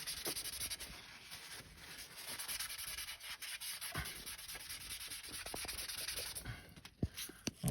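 A rag rubs and wipes across a car's oil pan, drying it after a spray of brake cleaner, a soft continuous scrubbing heard close up with a few small knocks and no talk.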